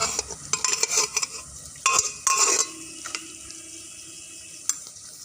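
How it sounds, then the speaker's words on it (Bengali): Cooked ghugni (a spiced pea curry) is scooped and poured onto a plate in a home kitchen, producing several short wet scraping and sloshing bursts, then a quiet tail with one faint clink. "একটা প্লেটে ঢেলে নেব।"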